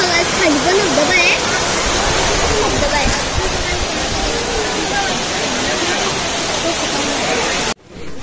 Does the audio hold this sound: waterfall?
yes